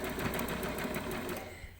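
Sewing machine stitching gathers on a camisole along an empire line, a steady continuous motor whir with rapid needle rhythm running throughout at moderate level.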